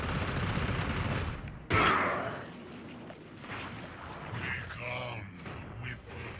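A heavy volley of gunfire in Warhammer 40k Chaos Gate: Daemonhunters bursts out loudly, then gives way to a softer rumbling wash and scattered later impacts, with no one speaking.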